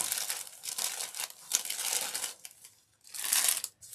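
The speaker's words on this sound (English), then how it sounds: "So first I want to stick some shredded paper down in there." Shredded paper is pushed into and ruffled around inside a balloon by hand, giving close, continuous crinkling and rustling bursts with a brief pause before a final flurry, with no talking.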